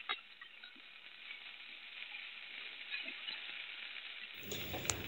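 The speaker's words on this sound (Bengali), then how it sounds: "পেঁয়াজ আর কাঁচামরিচটা ভালো করে ভেজে নেবো।" Onion, green chilli and ginger-garlic paste fry in a pan, a soft continuous sizzle with faint crackles that stays steady, then brightens near the end as more noise comes in.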